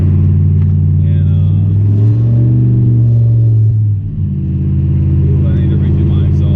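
A truck's 5.3 V8 fitted with a small eBay turbo rumbles loud and steady with a deep exhaust drone, swelling briefly as it revs, heard from inside the cab.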